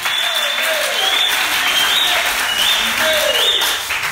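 A church congregation cheers and applauds loudly and continuously, with a dense wash of clapping and voices in a large room.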